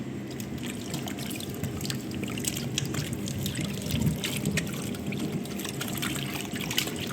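Vegetables are washed under running water, a steady trickle and pour with soft splashing that continues evenly throughout at a low, close level.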